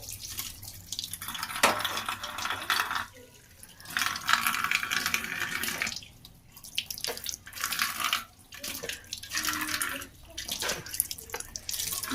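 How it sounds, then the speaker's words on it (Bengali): Water from a tap keeps running into a basin while a face is washed after dishes, a close, hissing splash that comes in bursts and short pauses as hands dip and lift. "বাসন মেজে আমি এখন মুখটা ধুয়ে দেবো"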